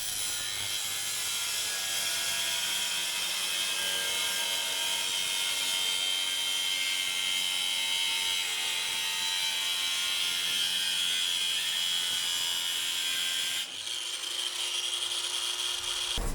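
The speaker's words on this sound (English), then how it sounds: "So I'm just going to score this with the cutoff wheel" A cutoff wheel scores a metal aftermarket 4Runner/Tacoma bumper with a loud, continuous high-pitched grinding whine that holds steady and close, then cuts off abruptly near the end.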